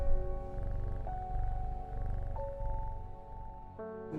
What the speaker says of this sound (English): We pet our cat.